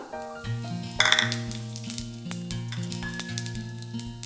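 Cumin seeds sizzling in hot oil in a pan on a gas stove, with a steady sizzle under prominent musical tones, a brief louder crackle about a quarter of the way in, and no talking.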